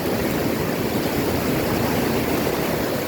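Fresh water of the Surgan River in the Surgan Valley rushing steadily, a dense, continuous broadband roar close by with no pauses or voices.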